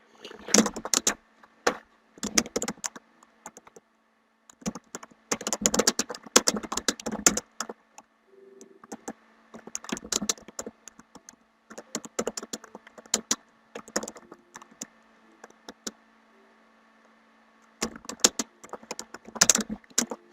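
Bursts of typing on a computer keyboard while entering a chat message during a Minecraft Factions game session, clustered in short rapid flurries separated by pauses, close and fairly clear with no talking.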